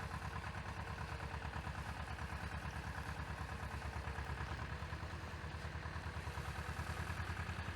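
A steady, throbbing tractor engine runs at a constant idle-like chug with a rattling pulse, loud and close, with no talking, on soft unfrozen ground after fresh snow while spreading liquid manure.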